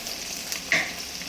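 Onions frying in a pan until golden brown, a soft steady sizzle with a short stir or scrape near the end, alone and fairly quiet.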